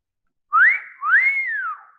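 Two clear whistled notes, each sliding up and then gliding down, forming a short melodic phrase that sounds close and carries alone.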